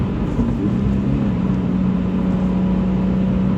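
Subaru BRZ with a manual gearbox running steadily, a continuous mid-pitched engine drone with a faint rising tone, close and fairly loud in the cabin, no voices.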